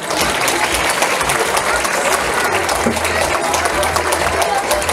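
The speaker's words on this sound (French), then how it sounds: "Et on peut encore les applaudir s'il vous plaît" Audience clapping at a hair salon fashion show in Theillay, a loud, continuous roar of many hands filling the whole stretch, with a low hum beneath and possible voices mixed in.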